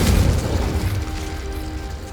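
An explosion spell is cast in the video game Hogwarts Legacy. A loud, booming blast hits at the start and rumbles on as a dense, fading roar.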